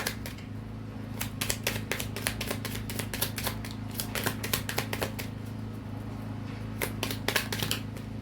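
Tarot cards are shuffled and drawn, giving a run of quick dry flicks and snaps over a steady low background hum, close up and without talk.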